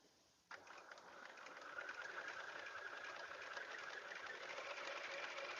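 Sewing machine stitching a quilt seam on a patriotic wall hanging, starting abruptly and then running as a steady, close, fast whirring hum that picks up speed slightly and continues without talk.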